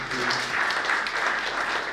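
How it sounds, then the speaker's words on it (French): Audience applause at an awards ceremony in Côte d'Ivoire, steady clapping from a seated crowd filling the whole stretch at an even level, with some voices mixed in underneath. "On peut encore l'applaudir, je vous prie."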